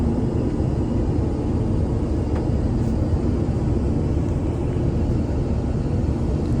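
Steady, loud airliner cabin rumble during landing after a long flight into Tokyo, a dense low roar holding evenly throughout with no voices.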